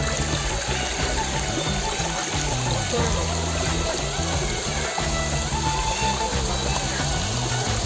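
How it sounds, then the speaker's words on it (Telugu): Steady rushing and trickling water of a waterfall in dense forest fills the scene continuously, a dense broadband flow with faint low background murmur throughout. "ఇంకా నీళ్ళు వస్తూనే ఉన్నాయి"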